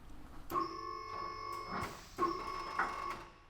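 A vehicle lift raises a 2012-2017 Jeep Wrangler JK in a garage, giving a steady mechanical whine with a tonal hum, broken by a couple of clunks and a short pause partway through, heard alone.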